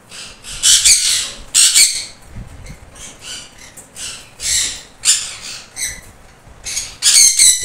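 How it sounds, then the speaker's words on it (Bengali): Blue yellow sided conures give repeated sharp, raspy squawks and chirps in bursts separated by short pauses, close and loud, with no voices. "blue yellow sided কুনুর"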